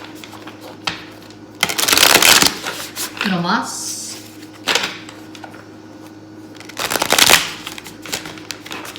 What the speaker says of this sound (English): Let's do a good hard shuffle.